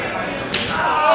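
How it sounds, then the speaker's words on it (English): A wrestling knife-edge chop, an open-hand slap to an opponent's chest during a multi-man match, lands as a single sharp smack heard through the arena noise and live commentary. "so they could all hear that knife-edge chop he landed on the baller"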